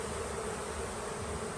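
Honey bees at an overwintering hive give a steady, faint, even buzzing hum that holds unchanged throughout with no voices.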